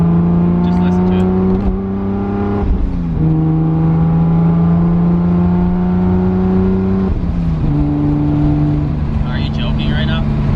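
A 900 wheel-horsepower MK4 Toyota Supra engine revs hard and accelerates through several gear changes, its loud, steady drone climbing and dropping at each shift, close and continuous for the whole stretch.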